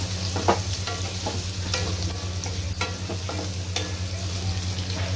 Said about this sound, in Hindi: बस अब इसे लगातार चलाते हुए हम सोयाबीन को फ्राई कर लेंगे।